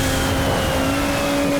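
A rally car's engine in the racing video game MotorStorm Monument Valley drones at a steady high pitch with a sustained rev, loud and constant throughout.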